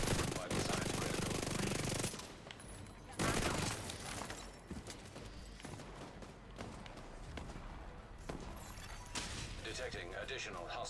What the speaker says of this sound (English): Excuse me while I get sniped by a shotgunner.